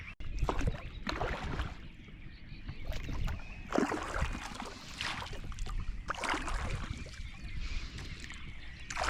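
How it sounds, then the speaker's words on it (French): Oars dip and pull through lake water as a boat is rowed, rhythmic splashes and knocks recurring every second or two, close by, with wind noise underneath. "Je préfère utiliser les rames que le moteur, tout simplement pour la discrétion."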